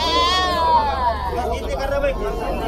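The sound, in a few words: goat bleating at a goat market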